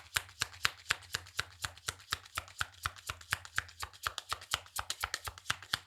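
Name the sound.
shuffling a deck of cards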